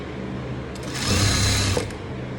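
A sewing machine runs in a short burst of stitching on a blouse patch, a steady mechanical whir that swells for about a second in the middle and then stops, heard close with no talking.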